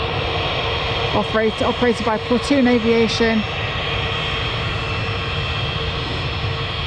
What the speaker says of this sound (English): we've got another jet just about to take off. So Pilatus PC-24 business jet going to Barcelona